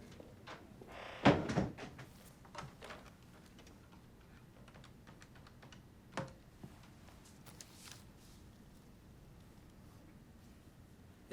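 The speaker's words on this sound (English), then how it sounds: "And shut the door." An indoor door swings shut with a firm thud near the start, followed by scattered light knocks, clicks and faint room movement in a quiet space.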